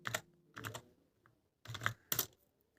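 Code is typed on a computer keyboard in short bursts of close, quiet keystrokes: a few clustered clicks, a pause, then more quick taps.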